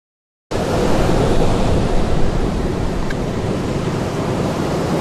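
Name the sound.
AI-generated storm sound effect, crashing ocean waves and howling wind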